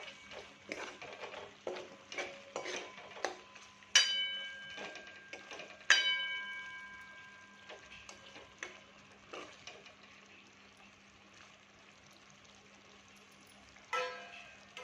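A spoon stirs chicken with green chilli paste in a metal pot, giving soft scraping and irregular clinks, with two bright ringing strikes against the pot rim and a steady low hum underneath.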